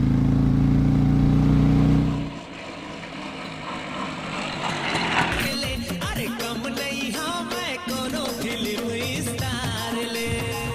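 A vehicle's engine rumbles loudly and close for about two seconds and then cuts off. Music plays for the rest of the time.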